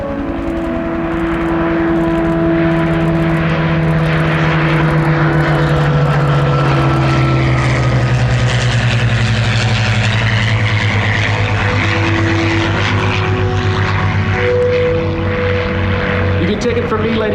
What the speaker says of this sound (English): We continue to listen to the sounds of these engines as they propel these important pieces of history through the